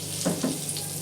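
Oil poured into a pan with butter, while cooking paneer jalfrezi, sizzles in a short, faint crackle with two small bursts.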